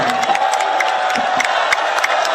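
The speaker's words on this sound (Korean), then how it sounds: "김준영 위원장님께 다시 한번 박수 부탁드립니다." A crowd at an outdoor candlelight rally applauds and cheers, steady dense clapping with scattered whoops and shouts, loud and continuous throughout.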